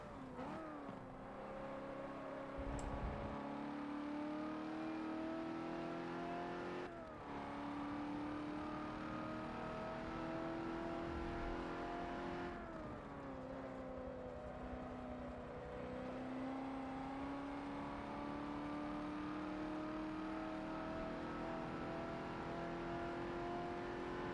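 Ford F-100 pickup lapping a circuit in Forza Motorsport 7, its engine droning loud and continuous, pitch climbing through gears with brief dips at shifts and lifts before pulling again.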